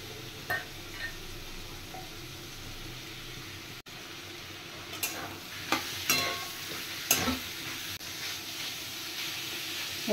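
Finely chopped chicken breast pieces fry in a pan with a steady, close sizzle and hiss, broken by several louder bursts of stirring and spattering.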